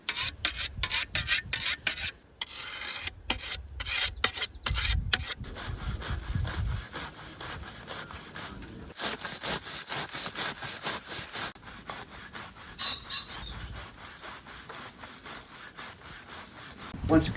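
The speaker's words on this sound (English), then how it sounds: "This is the gable knife, which I'm about to sharpen." A thatcher's gable knife is sharpened with steady forward rasping strokes, a quick run of short strokes at first and then longer continuous scraping, close and fairly loud with no talk.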